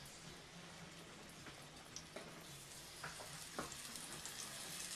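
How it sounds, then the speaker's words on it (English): Pieces of meat product for a stew brown in hot oil, giving a faint, steady sizzle broken by a few soft crackles and pops. "Just barely hear a sizzle there."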